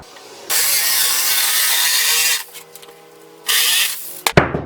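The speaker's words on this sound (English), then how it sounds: "I'm just going to use my jigsaw to cut this piece out right now" Jigsaw cutting through a piece of a wooden RV bed frame, two loud sustained bursts of buzzing saw noise separated by a quieter pause, then a few clattering knocks at the end.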